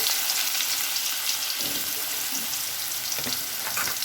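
Tofu and tempeh fry in oil reused from a morning batch, a steady broadband sizzle that holds throughout with a few soft clunks and pops as pieces go into the pan.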